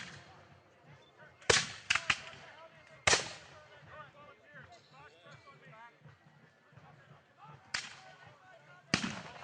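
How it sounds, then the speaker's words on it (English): A musket volley at a re-enactment of the Battle of Crysler's Farm on its 200th anniversary: sharp gunshot cracks, some ragged and some nearly together, spread over several seconds, with smoke-filled battlefield ambience and voices between the shots. "And look at that volley."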